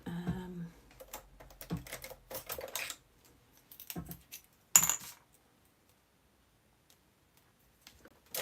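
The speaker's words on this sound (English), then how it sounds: "Right, let's snip this bit." Scissors snipping through card during a cardmaking session, a string of short, crisp, close clicks and cuts with a final sharper snip, then quiet.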